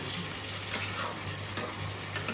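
Jackfruit curry being stirred in a pan, a soft continuous sizzle with faint ticking scrapes of the spoon and a low background hum, nothing spoken.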